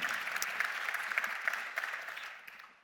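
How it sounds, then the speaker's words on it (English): A conference audience at a space industry plenary applauds panelists: steady, moderately distant clapping with a few sharper individual claps, fading toward the end. "I would like to give him a big round of applause"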